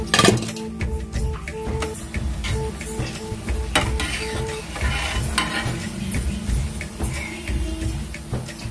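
Urad dal garelu, traditional Navratri prasadam vadas, frying in hot oil: a close, continuous sizzle with intermittent stirring and utensil clinks against the pan, and no talking.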